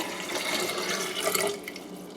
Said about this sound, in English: we would add enough water as to how much Mauby we want to make